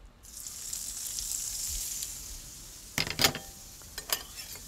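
Chorizo sizzles on an oiled grill for breakfast burritos, a steady close hiss running throughout, with a few sharper scraping clatters near the end.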